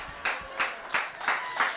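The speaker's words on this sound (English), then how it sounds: "Keep it clapping for him" Comedy show audience clapping for comedian Sean Savoy, a small group giving about five spaced bursts of applause in a loose rhythm, fairly quiet and distant.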